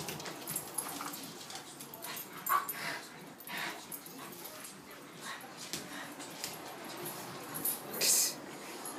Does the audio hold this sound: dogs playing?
yes